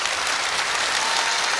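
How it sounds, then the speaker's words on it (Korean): A studio audience at a televised Korean singing contest with Chinese-Korean participants claps loudly and continuously, a dense unbroken wash of applause. "박수를 한번"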